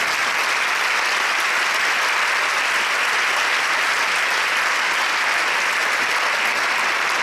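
Sustained audience applause for a musician at a jazz talk, dense and even clapping from a crowd lasting several seconds without a break.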